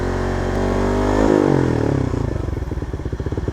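A fuel-injected Suzuki Raider R150 Fi motorcycle engine being tuned on a stand revs up to about 5,000 rpm, a loud close buzzing drone that rises in pitch and then settles into a rapid pulsing beat.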